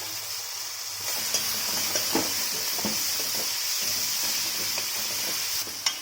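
Sliced onions sautéing in hot oil with spices for a tandoori paneer gravy, a continuous close sizzle broken by repeated scraping stirs of a spoon against the pan, no talking.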